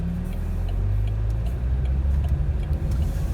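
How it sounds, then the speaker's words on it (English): A car engine idling unevenly, a low steady rumble with slight wavering in pitch and level, heard from inside the car with no talking. "Car's idling kind of funny."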